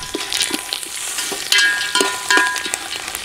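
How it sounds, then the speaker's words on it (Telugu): Green chillies and a handful of curry leaves fry steadily in a hot pan for tamarind rice paste, a bright continuous sizzle broken by a few stirring scrapes. "గుప్పెడు కరివేపాకు వేసుకుని బాగా వేయించుకుందాం"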